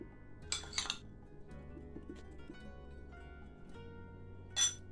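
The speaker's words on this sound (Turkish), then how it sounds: "Şu elmalardan da şöyle kaşıkla atıştıralım." A metal spoon clinks against a bowl while apple dessert is being eaten, a few bright, sharp taps near the start and one more at the end, close and quiet in an otherwise still room.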